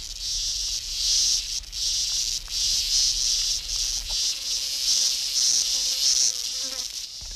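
A locust swarm buzzes as a dense, pulsing insect drone that swells and fades in waves, loud and continuous with no voices.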